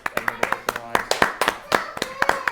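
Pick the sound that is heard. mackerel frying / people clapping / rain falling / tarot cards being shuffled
people clapping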